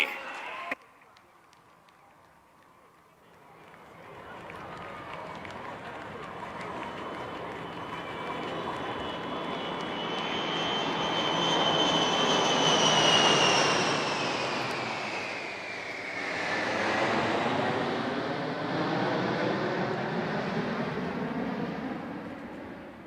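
Indian Air Force aircraft flying in Natraj formation over Chennai's Marina beach, a jet roar building from faint to loud, peaking mid-pass, then fading. Crowd noise and an announcer's voice run underneath.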